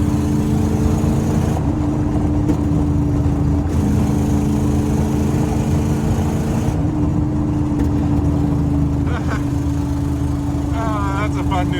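A big block Chevy truck engine fed by a Quadrajet carburetor runs close and loud, a steady heavy drone that swells in short revs, with a few faint voices underneath.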